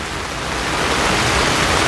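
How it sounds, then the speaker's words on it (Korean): Heavy rain pours steadily at an outdoor protest rally, a dense, loud, continuous hiss with no break and no voices. "이 빗소리가 들립니까?"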